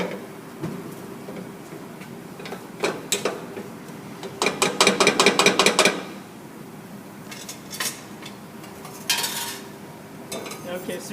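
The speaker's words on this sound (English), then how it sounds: "We're going to whisk it in stages" Cold milk is whisked in stages into a hot roux for a sauce, making bursts of rapid metal clinking and scraping against a pan, with a fast rattling run in the middle and scattered taps between.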